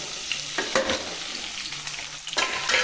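Onion, tomato, coriander and curry leaves frying in a pan for tomato chutney, a close continuous sizzle broken by a few sharp stirring scrapes, with no talk.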